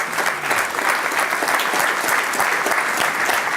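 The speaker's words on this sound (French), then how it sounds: "Oui, vous pouvez les applaudir chaleureusement." Audience at a bilingual panel discussion clapping warmly, dense steady applause from many hands throughout, close and loud with no speech.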